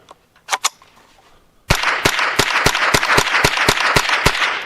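A Rock Island Derya TM22 .22 rifle fires a rapid string of about ten sharp, loud cracks at a steady pace, after two earlier single shots. Federal Auto Match ammunition is used, and no one talks.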